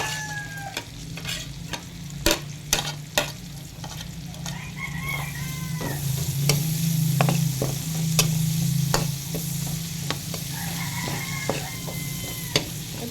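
Garlic and then onion fry in a pan with a constant hiss and crackle, punctuated by sharp clinks of a utensil against the pan, while a rooster crows faintly in the distance.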